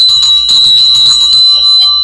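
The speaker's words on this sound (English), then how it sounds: "I should ring a bell for this one." A loud bell rings close by in quick repeated metallic strikes with a bright sustained ring, lasting about two seconds.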